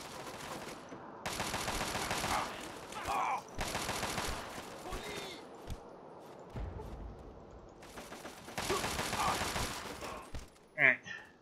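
Gunfire in the video game Fallout 3, heard as several long bursts of rapid automatic shots separated by short pauses, loud and close, with a voice talking in the gaps.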